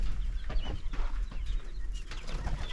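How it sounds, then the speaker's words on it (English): Young quail a few days out of the brooder, kept with pheasants, chirp in a steady stream of short high peeps, close and fairly busy throughout, with no talking. "So let's go check out this group of quail."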